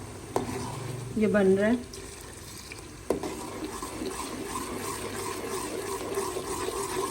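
Masala for goat trotters curry being stirred and fried in a pan: a soft continuous sizzle with scraping stir strokes, close, and someone talking briefly over it.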